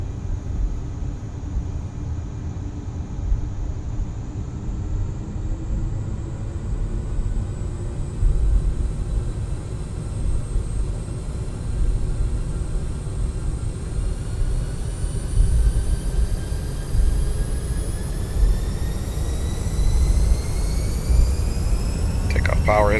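CRJ 700 jet engines spool up to takeoff power in the X-Plane 11 flight simulator, a steady loud roar with rising whine that builds slowly over the run.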